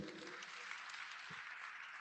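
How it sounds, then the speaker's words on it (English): At an African mediation conference, an audience applauds Court of Appeal justices with soft, continuous clapping that sounds distant and faint. "Can we give them a round of applause?"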